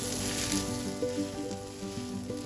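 Potatoes sizzle steadily in a hot pan as they are stirred into a filling for aloo bread pakora, a continuous close frying hiss with light background music underneath.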